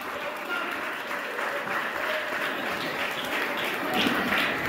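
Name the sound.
audience applause at karate club event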